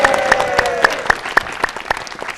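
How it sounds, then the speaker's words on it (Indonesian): An audience at a televised business seminar claps in a burst of distinct, fairly close hand claps with crowd noise beneath. "Tepuk tangan dulu dong, kasih suara."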